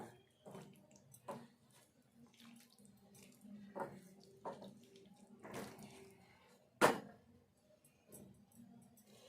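Water is poured into a pan of fried ivy gourd and potato curry, giving faint splashing and trickling amid scattered soft clinks and taps, with one sharper knock near the end; no one speaks.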